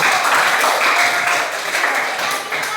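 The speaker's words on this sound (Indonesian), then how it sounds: "Berikan tepuk tangan." Steady applause from a crowd, dense and sustained throughout, fairly loud and close, with a slight easing toward the end.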